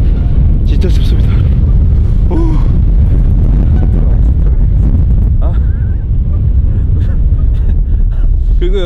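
Wind blowing into a microphone outdoors on a cold night at around -5 degrees during solo car camping, with a loud, constant low rumble and buffeting, and a person talking over it.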